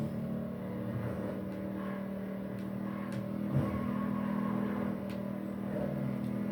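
A motorcycle pulls a wheelie, its engine holding a steady humming drone with a slight swell in revs midway, at moderate level and without speech.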